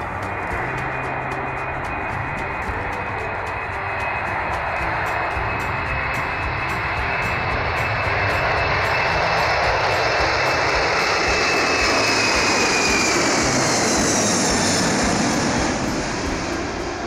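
A Boeing 747 Dreamlifter cargo jet roars loudly with its engines, a steady, dense rumble that swells and adds a rising high whine over about seventeen seconds, with no voices.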